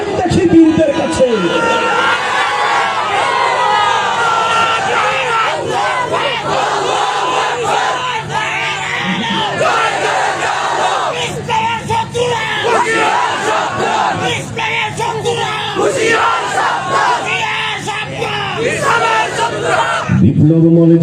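Crowd at a nasheed festival in Sandwip chanting slogans in loud rhythmic unison, voices yelling together in repeated bursts with a lead voice driving the chant, close and forceful throughout.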